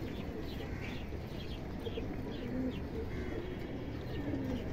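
A pair of Indian kaldom highflyer pigeons coo softly and repeatedly up close, low throaty calls over a busy background with faint chirps from other birds.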